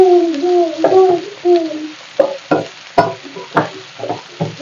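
Two sliced onions fry in a pan for a chicken curry, stirred with a spatula. Rhythmic scrapes and knocks sound close over a low sizzle, with squeaky scraping strokes at the start.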